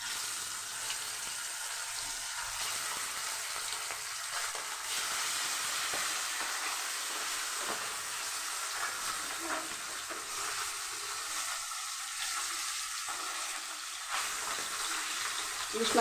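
Hilsa fish pieces frying in a pan, a steady broadband hiss and sizzle that holds constant throughout, close and fairly even with no voices.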